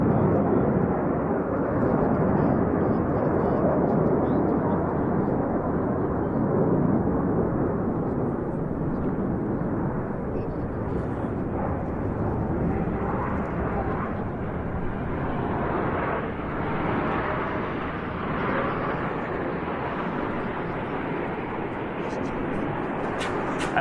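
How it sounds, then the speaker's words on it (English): Group of display aircraft at the Royal International Air Tattoo flying past, a broad continuous jet roar that stays loud throughout and eases slightly toward the end, with commentary talking over it. "the next group of aircraft is running in beneath them from the right"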